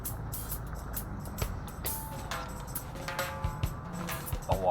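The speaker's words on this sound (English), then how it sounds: "Sorry about the noise, but yeah, I'm next to a busy road." Steady roar of busy roadside traffic with passing trucks and cars, a constant broadband rumble throughout, with occasional higher whines and clanks near the end.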